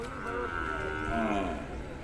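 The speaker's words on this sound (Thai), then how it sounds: "ควายฝูงนี้ครับ" Lowing of a water buffalo herd at a muddy cattle market, with long overlapping moos rising and falling over a busy outdoor crowd with voices in the background.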